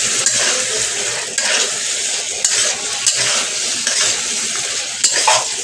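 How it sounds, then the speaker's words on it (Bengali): Dried fish cooks with potato, eggplant, coriander leaves and tomato in a hot pan, a busy sizzle broken by repeated scrapes and clinks of a spoon stirring against the metal, close and fairly loud. "শুটকি মাছ দিয়ে আলু, বেগুন, ধনেপাতা, টমেটো দিয়ে কষছি।"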